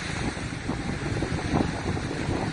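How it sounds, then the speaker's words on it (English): Steady, rushing wind buffets the microphone on the beach at Playa del Carmen, Mexico, with low rumbling gusts, a constant roar with surf-like wash underneath and no voices. "It's been windy for 3 days."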